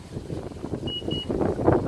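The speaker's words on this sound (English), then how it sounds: "press and hold that till you get a beep" Two short high electronic beeps sound in quick succession over low rumbling background noise, from a car tailgate as its opening height is set.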